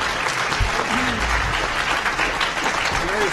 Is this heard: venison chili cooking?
no